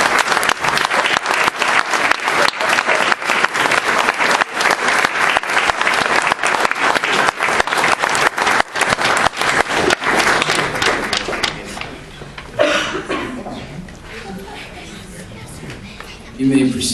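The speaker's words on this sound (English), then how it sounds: "Please give these students a round of applause." An audience at a school district board meeting applauds students with sustained, dense clapping for about ten seconds, then it tapers off into murmured talk, shuffling and a few thuds.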